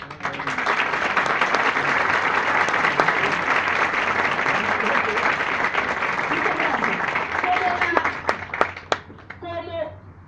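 Graduation ceremony audience applause during a speech at ULAC in Caracas: a long, steady wash of clapping from a large crowd for about eight seconds, then a few scattered claps and a voice as it dies down.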